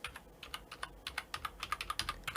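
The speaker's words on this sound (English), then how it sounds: "So when I start typing the password, you don't see any movements there." Password being typed on a computer keyboard: a quick, uneven run of light key clicks, close and clear, with no voices.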